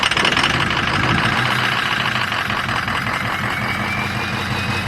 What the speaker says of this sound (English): I'm pretty sure it's some injector issues with the truck. It sounds like it.